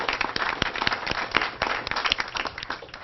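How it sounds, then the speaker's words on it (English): A crowd claps steadily at the outdoor opening of a new city park with a bike trail. The clapping is dense and fairly loud, with sharp individual claps standing out and no talk over it. "Let's give a round of applause to that."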